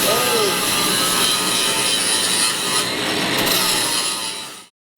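Power grinder working metal in a garage, a loud, continuous harsh whine and rasp that holds steady for several seconds before cutting off abruptly.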